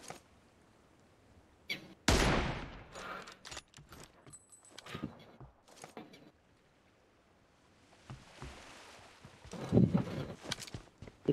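Several sharp gunshots crack out in bursts, with footsteps and clicking between them, loud and close, from the game PUBG Mobile.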